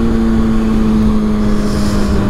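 A Kawasaki ZX6R motorcycle ridden on the road home with a passenger aboard, its engine holding a loud, steady droning note under rushing wind noise throughout.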